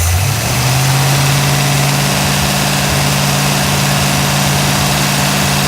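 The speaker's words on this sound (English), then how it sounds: "I'm going to go ahead and rev it a couple times so we get that on video as well" A 1957 Ford Fairlane Sunliner convertible engine revs up, then holds a steady raised RPM as a loud, continuous drone with no talking.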